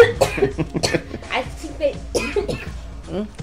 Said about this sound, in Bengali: কাশি আসলো কা তোমার?